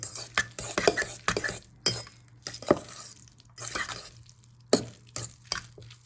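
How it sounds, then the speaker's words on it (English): Egg salad made from eight eggs is stirred with mayonnaise in a bowl, giving close, irregular scraping strokes and soft clinks of a utensil against the bowl, with pauses between bursts. "let me mix it first"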